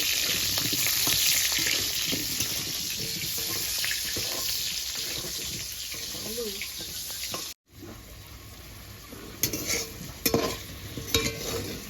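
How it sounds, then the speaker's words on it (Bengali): Cut potatoes fry in hot oil until browned, a dense, loud sizzle with stirring scrapes, then a brief cut to quieter frying with clattering utensil knocks. "এবার আলুটা আমি লাল লাল করে ভেজে নিই"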